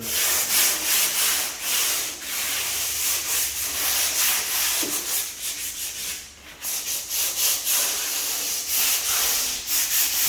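Sandpaper rubs by hand across a wooden door being prepared for a fresh coat of paint, in steady back-and-forth strokes, close and continuous, with no talking.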